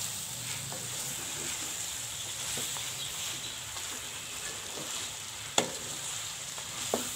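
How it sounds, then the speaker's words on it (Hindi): Okra (bhindi) fries in a pan for bhindi masala, a continuous hissing sizzle broken by a few sharp clinks of a utensil against the pan as it is stirred, with no talking. "भिंडी डाल के इसको अब हिला लेना है।"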